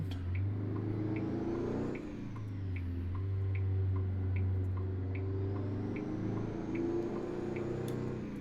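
A heavy truck pulls away from a green light in the video game American Truck Simulator, its engine rumbling loudly and steadily as it winds up through the gears, with faint ticking in the background.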